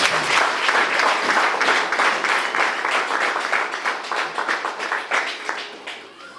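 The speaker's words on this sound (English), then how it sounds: "Let's just give a clap offering this time." A church congregation claps together during a pastors' ordination service, loud, dense and continuous applause that gradually thins and fades toward the end.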